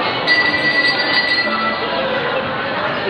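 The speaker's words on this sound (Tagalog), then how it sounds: "Ayan, may tren." Train rolling past near SM City Fairview shopping mall, a steady close rumble with a thin metallic wheel squeal running through it.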